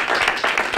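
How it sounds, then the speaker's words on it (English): Audience applause at a school board chair and member-at-large swearing-in ceremony, a dense steady patter of many hands clapping through the brief moment. "Let's give her a round of applause."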